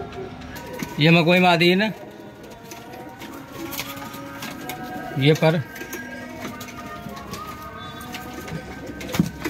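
Pigeons for sale call with bird calls around 1 s and 5 s, close and fairly loud, while someone speaks Hindi in between.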